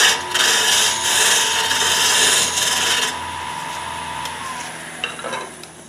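A lathe tool trimming wood while turning a spin top: a scraping, rasping cut for about three seconds that then drops to a quieter steady hum of the spinning lathe, with a few light ticks near the end.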